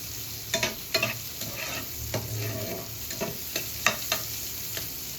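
Onions frying in oil in a home kitchen, with a steady soft sizzle broken by repeated clinks and scrapes of a spatula stirring the pan, close and moderately loud.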